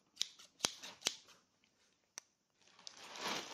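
Scissors are handled close up in a few sharp metallic clicks and snips, followed by a quiet pause and then soft rustling.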